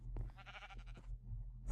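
A single sheep in Minecraft gives one wavering bleat, fairly faint and alone, followed by quiet.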